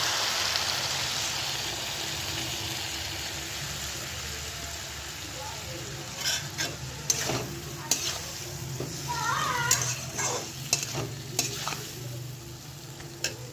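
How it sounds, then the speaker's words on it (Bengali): Okra curry with mustard paste sizzles steadily in a pan, then stirring brings a busier stretch of scrapes and clatters, with a faint voice partly heard in the background. "এরপর আমি এর মধ্যে দিয়ে দিচ্ছি একটু সর্ষে বেটে রেখেছিলাম, একটু সর্ষে বাটার জল ছেঁকে।"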